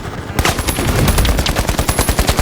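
A turret machine gun in the shooter game The Finals fires in a rapid, loud, sustained burst of sharp evenly spaced shots, close up, after a brief quiet start.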